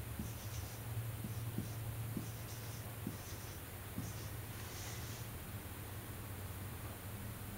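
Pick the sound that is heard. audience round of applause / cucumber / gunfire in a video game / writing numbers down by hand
writing numbers down by hand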